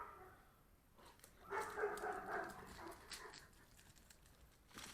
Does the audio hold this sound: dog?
yes